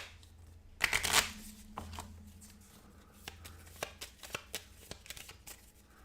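A deck of game cards for the Imperium Classics board game gets a quick riffle shuffle, a brisk fluttering burst, followed by a series of soft taps and clicks as the cards are squared and handled.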